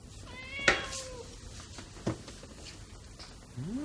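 A cat meows a few times, one sharp close cry followed by shorter, quieter mews and a rising call at the end, over a quiet indoor background.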